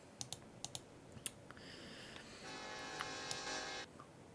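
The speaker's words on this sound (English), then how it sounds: "That's a train on that track." A train passing on nearby tracks on the Gulf Coast gives a long, steady blare of its horn, heard faintly after a few scattered clicks and taps, with no voices.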